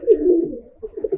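A show pigeon kept by a breeder coos close by, one rolling low coo followed by a few shorter soft pulses, loud and alone without talk.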